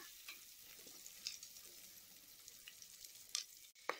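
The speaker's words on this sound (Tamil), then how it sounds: "இப்போ ஆனியன் நல்லா வதக்கிக்கலாம்." Onions sauté with green chilies in a pan, making a soft, continuous sizzle with occasional sharp pops and the faint scrape of stirring, quiet and close, with no speech.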